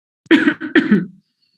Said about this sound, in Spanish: Hablar de herpes hace que a mí me agarre tos.